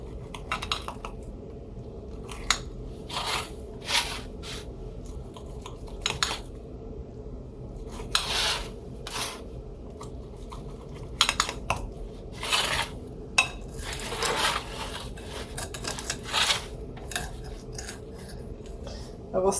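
A knife and utensils clink and scrape against a dish as a kale quiche is cut into pieces, with scattered sharp taps over a quiet room hum.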